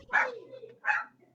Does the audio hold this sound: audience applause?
no